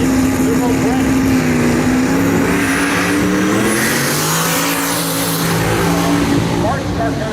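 A twin-turbo 427-cubic-inch LS drag car launches at a Northern Michigan dragstrip, its loud engine droning steadily with a slight pitch dip midway, while voices are heard over the roar.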